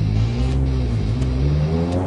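A tuned Skoda Octavia VRS fitted with a Garrett turbo revs hard nearby, its engine note rising and holding in a loud, continuous roar with no talking.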